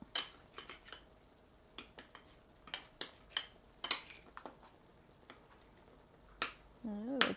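Cutlery clinking and scraping against a plate while zucchini fritters are cut, a string of sharp, separate taps and scrapes at close range, with a brief louder rattle near the end.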